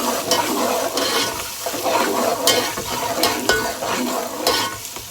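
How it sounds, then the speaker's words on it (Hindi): Garlic and ginger, coarsely ground, frying with onion in a pan for Lahori-style kadhi kofta, a steady close sizzle broken by scraping stirs of a spoon against the pan, with no talk. "हमारा पिसा हुआ लहसुन और अदरक जो कि हमने उसको जो है वो मोटा मोटा पीसा था, वो इस टाइम फ्राई हो चुका है।"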